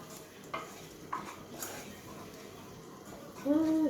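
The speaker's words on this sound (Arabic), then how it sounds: "كنبقى نحرك هاد الزبده هادي حتى كتذوب مع الطحين هذا" Butter melting with flour in a pan is stirred close up, with soft scraping strokes, light clinks of utensil against the pan and a faint sizzle underneath, followed by a short high squeak at the end.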